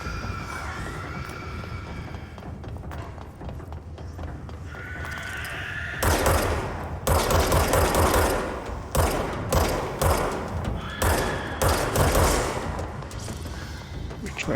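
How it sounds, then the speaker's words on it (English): Enemy gunfire in the game Control breaks out after a quieter stretch as loud, rapid bursts of automatic shots, repeating in clusters over a steady background rumble. "Why is he shooting at me?"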